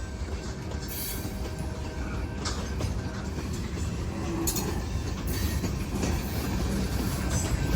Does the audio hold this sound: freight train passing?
yes